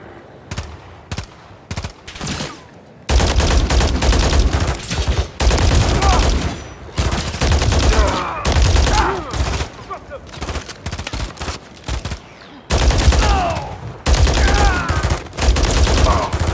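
Sustained automatic rifle fire in the Call of Duty: Modern Warfare 3 Highrise mission, with rapid bursts and fusillades under intermittent voices.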